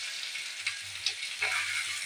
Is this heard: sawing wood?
no